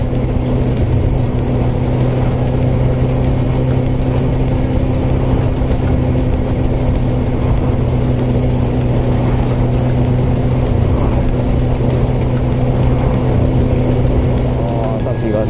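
Steady, loud in-car engine and road drone of a car driving on the Okayama Blue Line road, with a constant low hum throughout and someone talking over it.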